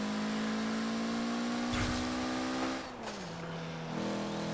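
A 1992 Mitsubishi Galant VR-4 climbs a hill in Forza Horizon 4, its engine holding a steady, close drone that drops in pitch partway through as it shifts, with no talking.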